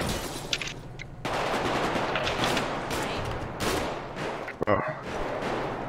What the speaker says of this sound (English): These fucking guys are shooting officers